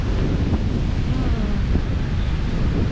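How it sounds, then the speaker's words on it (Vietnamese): Sea waves and steady wind on the beach at Da Nang, a continuous loud rushing surf with wind buffeting the microphone throughout, no distinct breaks. "Biển Đà Nẵng."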